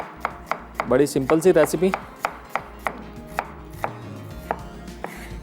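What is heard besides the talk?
knife slicing onion on a chopping board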